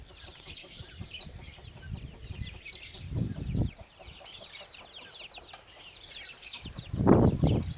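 Free-range native country chickens cluck and call around a farmyard, with bursts of wing flapping and nearer scuffling, moderately loud and continuous with no talk.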